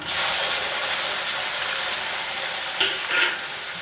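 Onions hit hot oil with dried red chilli, green chilli and curry leaves for a garlic pickle. A dense, steady sizzle and frying hiss fill the pan, with a couple of brief stirring scrapes near the end and no talking.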